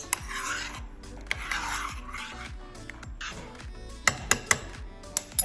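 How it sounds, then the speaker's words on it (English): Clumpy cream of rice stirred in a pot, a steady gritty rasping and rubbing of a spoon against the pot, with a few light metallic clinks near the end. "Now what I'm going to do is I have to stir it."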